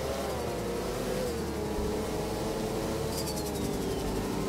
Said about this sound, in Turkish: Egzoz sesi çok güzel arkadaşlar.